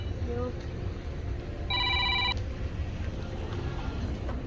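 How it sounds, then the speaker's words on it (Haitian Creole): A telephone rings once with a bright electronic trill, heard briefly over a low background hum and murmur. "mes téléphones m'a sonné"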